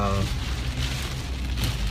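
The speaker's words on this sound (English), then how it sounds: "it's been raining quite a while here with the winds" Hurricane Irma's rain and wind as it makes landfall in Sebastian, Florida: a loud, dense hiss of pouring rain and gusts that goes on without pause, with a voice briefly heard over it.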